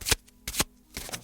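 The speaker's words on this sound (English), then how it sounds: "She begins to shuffle them" Playing cards are shuffled in three quick riffling bursts, close and crisp, each a short papery flutter with brief pauses between.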